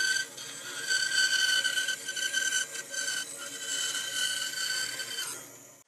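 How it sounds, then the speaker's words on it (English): A bandsaw cuts a wooden table saw zero clearance insert to shape, giving a close steady whine with a rasping cutting tone that rises and dips as the wood is fed, stopping at the end. "Now I'll take this over to the bandsaw and I'm gonna go ahead and cut this to shape."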